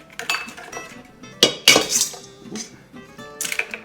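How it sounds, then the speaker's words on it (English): Organic eggs cracked and beaten in a bowl for an egg wash, giving irregular close clinks and taps of utensil on bowl with quiet scraping between the sharper hits. "So I'm going to crack some organic eggs. We'll beat these up."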